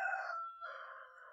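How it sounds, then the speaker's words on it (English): A backyard rooster crows once from a short distance, a single clear cock-a-doodle-doo heard alone in a quiet home workshop and fairly faint. "sorry, that's my rooster."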